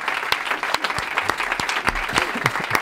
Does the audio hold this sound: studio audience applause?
yes